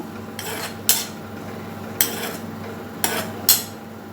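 A spoon stirs salted snake gourd in a cooking pan, giving four sharp metallic clinks against the pan over quiet, soft scraping, with no talk.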